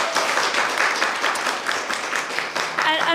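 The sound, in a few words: applause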